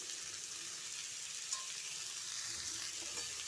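Ground cumin and chili powder frying in a pan for paneer masala, a soft continuous sizzle with faint stirring, quiet and close with no talk.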